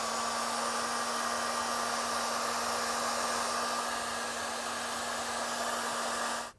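A heat source blows steadily on heat shrink connectors while wiring a trailer brake controller, a continuous close whirring roar with a fixed whine that cuts off at the very end.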